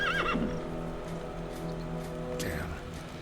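Horses neigh in the Warcraft 3 Reforged video game, a whinny at the start and another near the end, with clip-clop hooves and low game ambience running steadily underneath.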